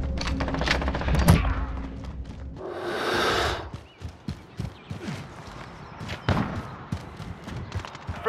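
Gunfire in the multiplayer video game Call of Duty Modern Warfare, with loud sharp shots and short bursts near the start, then scattered cracks and thuds amid mixed in-game noise.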